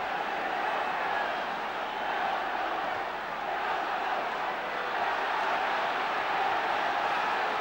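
A football stadium crowd at an Arsenal v Newcastle United match gives off a steady, dense roar and murmur that stays even throughout, with no clear chants or bursts of cheering.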